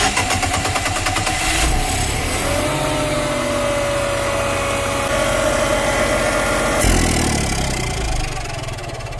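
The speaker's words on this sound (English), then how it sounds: "We'll see if we can start it at the generator first." The generator on a Regal 33 XO boat cranks and fires up, then runs at a steady mid-pitched drone, loud and close, with a brief surge in tone partway through and no talking.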